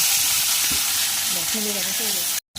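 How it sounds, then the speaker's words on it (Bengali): Bata fish sizzling as they fry in hot oil, a bright continuous hiss with a few soft stirring knocks, close and fairly loud, cut by a brief silence near the end. "এবার এই মাছগুলোকে ভালো করে ভেজে নেওয়া যাক।"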